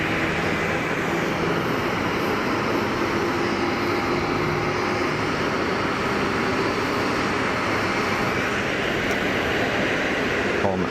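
Airliner taxiing at Geneva Airport, a loud continuous engine roar and rumble holding steady throughout at close range.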